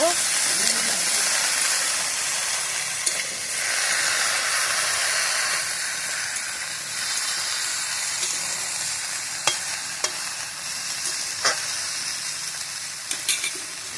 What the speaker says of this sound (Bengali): পরিমাণ মতো হলুদ গুঁড়ো ভালো করে নেড়ে নেব